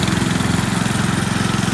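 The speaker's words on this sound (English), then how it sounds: "our trusty little tractor" A small tractor engine runs nearby in a pasture, a loud, steady low chugging drone with a fast even pulse and no breaks or talking.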